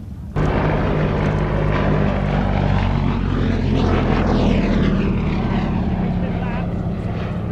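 A propeller aircraft engine drones loud and close at the Shuttleworth air show, a steady throbbing roar that swells and shifts in pitch as the plane passes, with a voice speaking over it.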